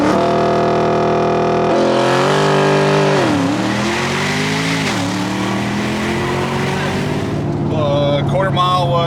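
A heavy Porsche fitted with an IPD plenum launches hard, its engine note climbing loudly through the gears with brief dips at each shift, steady and close inside the cabin.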